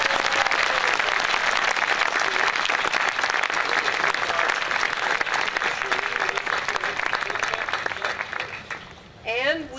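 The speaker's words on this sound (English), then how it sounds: "please give them a big round of applause" An audience applauds at a ceremony with a senator present, producing loud, dense, continuous clapping for nearly ten seconds that thins near the end as a voice begins to speak.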